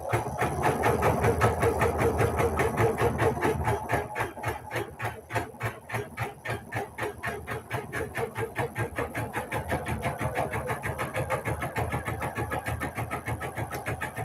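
Pulin EOC06 embroidery machine running, a fast even mechanical chatter of needle strokes that stays steady and close with no talk.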